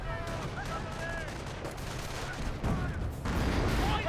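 Rifle and machine-gun fire from a Company of Heroes 1 battle, with an American squad volleying at Volksgrenadiers, crackling continuously under a background game soundscape.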